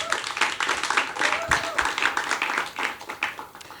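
Applause and scattered clapping from a reggae festival crowd at Catch A Fire Reggae Festival 2024, a steady dense patter of hands lasting the whole stretch with a voice briefly heard under it.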